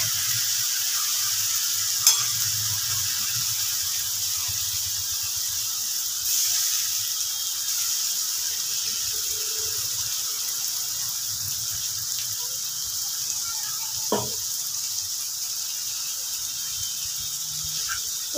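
Onion paste frying in oil for Mughlai paratha gives a steady, soft hiss of sizzling throughout, with a couple of faint clicks from stirring.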